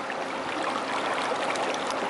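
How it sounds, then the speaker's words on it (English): A river flows steadily around people standing in it, a continuous broadband rush of water, close and even, with no voices. "We are standing in the river."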